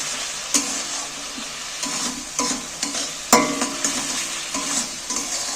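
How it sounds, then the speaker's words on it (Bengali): Fried moong dal and peanuts being stir-fried with spinach in a pan: close, rhythmic scraping and stirring strokes over a continuous sizzle, with sharp utensil knocks against the pan. "মুগের ডাল ভেজে রেখেছিলাম সেইগুলো আমি এর মধ্যে তুলে দিচ্ছি ঢেলে দিচ্ছি এবার পুরোটাকে কষিয়ে নিচ্ছি"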